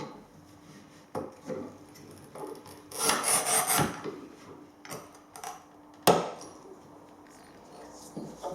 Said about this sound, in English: I've just got quite a coarse grade on the old Black & Decker mouse look. It's P40, so this helps just to take down any rough edges.